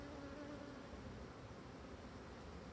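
An agitated colony of black honeybees buzzes in a dense, steady drone that fills the whole stretch close by, with no voices over it.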